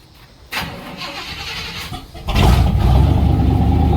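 A car engine cranks and struggles before catching, then settles into a loud, steady idle close by with no talking.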